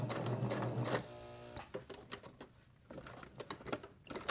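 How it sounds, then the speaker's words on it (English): Sewing machine stitching fabric slowly for a beginner's stacked fabric Christmas tree project, a steady rapid mechanical whirr that runs, pauses and restarts in short bursts, close and fairly loud with no talk. "try not to stretch your fabric as you're stitching it"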